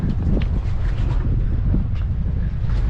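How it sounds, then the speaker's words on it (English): Gusty wind sweeps across the Busselton foreshore and buffets the microphone with a continuous low rumble that stays loud throughout. "And the wind is actually picking up a little bit."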